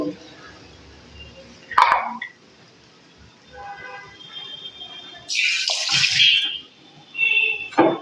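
Water from a rinsed bowl poured into tomato chutney in a pan, giving a short splash and then a longer, louder gush of pouring near the end, close by, with faint clatter between.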